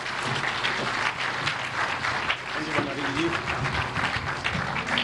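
Sustained applause from a large crowd at a cooperative day event welcoming the President of Kenya, dense and steady throughout, with voices mixed into the clapping.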